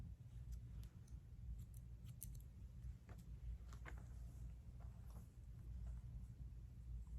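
Scissors snip hair during a 90-degree haircut, a series of faint, brief, irregular crisp cuts over a low steady room rumble, with no talking.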